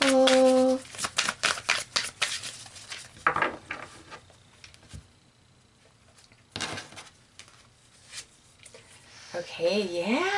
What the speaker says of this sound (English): one final shuffle